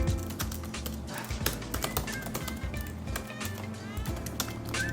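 Typing on a backlit MacBook Pro laptop keyboard, a steady run of close, crisp key clicks and taps in an irregular rhythm over a low background hum.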